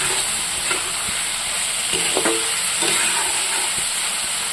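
A spice paste sizzles loudly in a pan, a constant dense hiss with soft stirring scrapes and small spoon taps scattered through, close and without speech.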